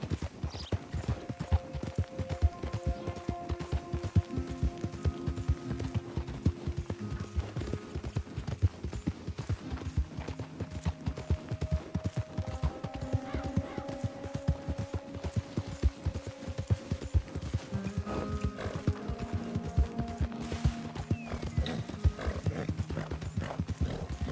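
Horse hooves galloping in Red Dead Redemption, a fast, steady, close clip-clop that runs throughout, with an occasional whinny and brief game sounds layered over it.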